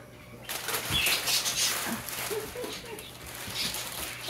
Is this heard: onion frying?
no